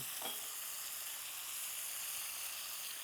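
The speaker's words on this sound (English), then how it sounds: "We brown our ground beef, and we just kinda, you wanna get it into the smallest pieces that you can" Ground beef browns in a Copper Chef pan with a steady, dense sizzle that holds evenly from start to finish, close and continuous, with a faint scrape near the start.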